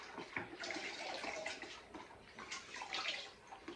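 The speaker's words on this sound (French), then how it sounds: "je rince mon panier" A JBL aquarium pump's filter basket is rinsed under running water, a steady close splashing and gurgling stream with fluctuating surges as the basket is turned, no voices.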